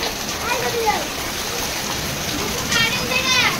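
Heavy rain pours steadily as a dense, hissing wash with some splattering, while voices talk faintly over it.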